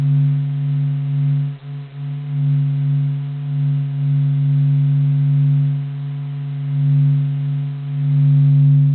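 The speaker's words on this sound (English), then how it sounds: "NASA recorded the vibrations of the solar surface and converted them into audio." A NASA recording of vibrations on the sun's surface, turned into sound, plays as a deep, steady humming drone with layered tones that swell and pulse slowly, loud and alone.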